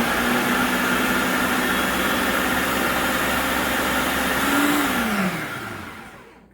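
Electric mixer creaming a keto chocolate spread with maple syrup, a loud, steady motor whir that runs evenly, then dips in pitch and winds down to silence at the end.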